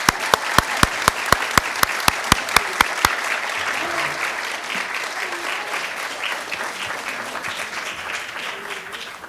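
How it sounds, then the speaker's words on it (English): Applause for dancers at the end of a performance: a few sharp unison claps in steady rhythm, then sustained, full crowd clapping that continues to the end. "Give them one more round of applause,"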